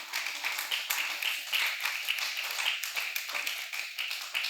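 A church congregation claps and applauds during a Christian service, steady close crowd clapping with rhythmic bursts throughout, fairly quiet overall.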